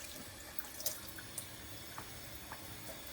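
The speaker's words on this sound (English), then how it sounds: "Washing my hands." Hands being washed under a running kitchen tap while preparing a tuna salad, a faint steady trickle of water with small splashes and drips, no voices.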